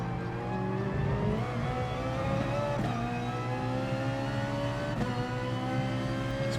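A Ferrari race car in GT Sport at Le Mans howls steadily at high revs, its engine note rising and dipping through gear changes and braking, loud and continuous with no talk.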